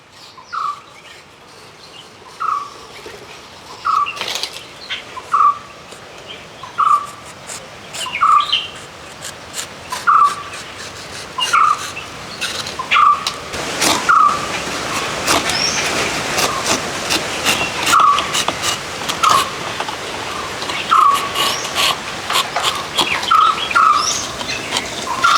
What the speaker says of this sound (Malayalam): ഒരുപാട് കിളികളുണ്ട്. ഇപ്പോൾ തന്നെ കരയുന്നുണ്ട്.